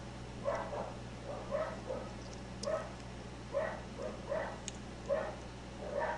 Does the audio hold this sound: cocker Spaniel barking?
yes